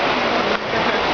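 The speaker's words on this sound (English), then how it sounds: "God, it was just sunning like 3 minutes ago and now it's like pouring rain." Heavy pouring rain after a sudden downpour at Disney-MGM Studios, a steady dense hiss filling the whole short stretch with no voices over it.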